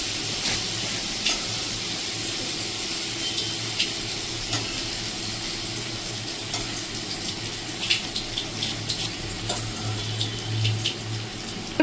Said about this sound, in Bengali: এখানে আমি পুরো বাটারটাই অ্যাড করে দিলাম